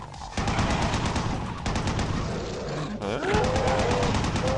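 Dense rapid gunshots in a video game, sustained bursts of automatic fire close and loud, with a brief mechanical whine near the end and no clear talk.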